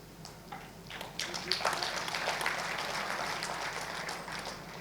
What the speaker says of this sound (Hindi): मेरे लिए तालियां मत बजाओ